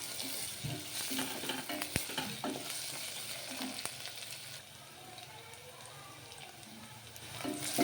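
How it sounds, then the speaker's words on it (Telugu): Onions frying in a pan with a steady, close sizzle and occasional stirring clicks, continuing without any talk and easing slightly in the second half. "చూడండి చక్కగా వేగుతున్నాయి ఉల్లిగడ్డలు"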